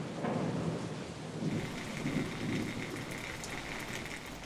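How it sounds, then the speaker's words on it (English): Thunderstorm at Chernobyl, a dense steady roar of heavy rain beating on surfaces with a deep rolling thunder rumble underneath, no voices. "As the storm intensifies, thunder and lightning drown out the relentless beating rain."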